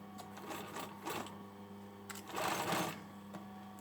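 A sewing machine stitches a hoodie sleeve onto the garment body in bursts of rapid mechanical whirring with short pauses between, the longest and loudest run near the end, close and with no talk.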